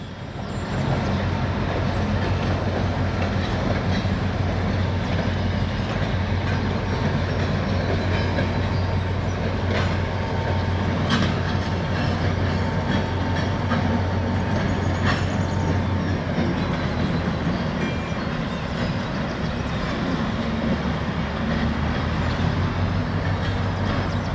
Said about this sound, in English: the NX-10 shoves the cars for KC and Hollyville onto the spur